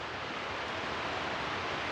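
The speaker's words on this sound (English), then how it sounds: "you can hear waterfalls all around us" Waterfalls at Cane Creek Falls State Park in Tennessee, a dense, steady broadband roar of falling water that stays constant and enveloping, with no voices.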